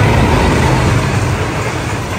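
A train passing on the Pakistani railway, a loud, continuous roar of rolling wheels and engine close by, steady throughout.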